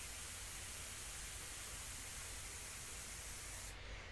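Steady, even airbrush spray of India ink onto paper, a continuous soft hiss held close and constant throughout with no pauses or voices.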